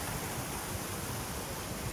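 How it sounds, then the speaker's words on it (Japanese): A large fountain and waterfall in front of Gifu Station makes a steady, unbroken rush of splashing water, heard at an even level throughout. "駅前にこんな大規模な噴水とかね"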